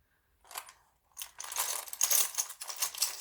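Small metal tarot charms being handled and rattled close by, bursts of jingling clinks and scraping that start sparse and build into busier shaking, with no talking.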